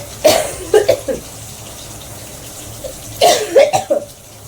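Someone with an irritated throat from a morning cold and allergies coughs in two close clusters of short, harsh bursts, with a quiet pause between them.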